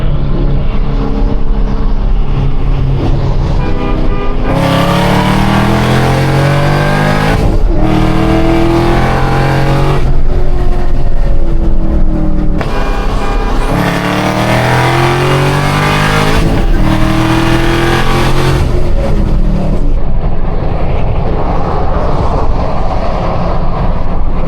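A Chevrolet Camaro ZL1 is driven hard around a race track, its engine roaring loudly and continuously as it climbs through the revs, with sharp breaks at each gear shift and long sustained pulls.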